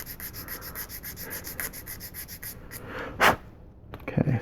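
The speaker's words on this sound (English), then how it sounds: "I'm just going to sand this a little bit of an angle." A plastic model kit part for a 1/72 scale Sinanju is sanded at an angle by hand, giving soft repeated rubbing strokes, then a sharper scrape and a few light handling sounds, close and quiet.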